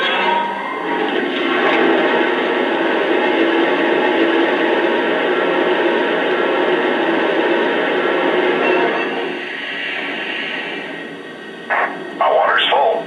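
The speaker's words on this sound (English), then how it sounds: "here's the sound of water being added to the tender." Water-fill effect for the tender of a Lionel N&W 2-8-8-2 Y6b model steam locomotive, a sustained rushing, gurgling hiss lasting about nine seconds before fading, followed by a few brief, clipped radio-like crew sounds near the end.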